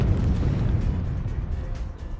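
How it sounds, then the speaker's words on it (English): Thud of the boulder character Boulder falling onto the ground in the UK dub of Thomas & Friends, a deep rumbling low-end impact that rolls on for about two seconds, loud and dense, no talk. "The sound effect when Boulder thuds onto the ground after his fall sounds like this in the UK"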